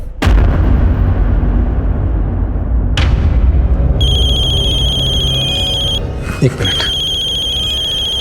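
A phone rings in a Hindi crime drama: an electronic ringtone with repeated high tones starts after a loud low boom-like sound and continues to the end, with a brief spoken line in the middle.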